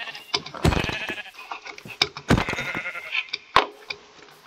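Sheep in a video game bleat repeatedly in short, loud, wavering calls, several overlapping across the clip, with no talking.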